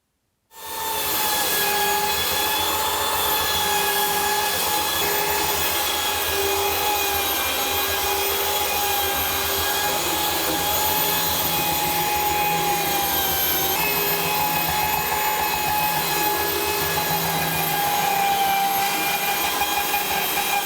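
A steady, continuous mechanical whir of a power sander grinding on small unfinished hardwood pieces, close and loud, running without pause throughout.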